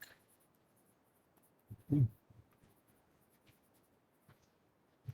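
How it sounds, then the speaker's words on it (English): A pen scratches quickly across paper in a quiet room, faint short strokes with one louder scribble near the middle. "please write it fast"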